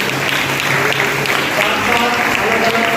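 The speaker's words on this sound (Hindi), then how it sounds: "जोरदार के लिए भी तालियां होनी चाहिए।" Sustained applause from an audience at a school youth parliament competition event, a dense steady patter of clapping filling the room for the whole stretch, with a faint voice mixed in.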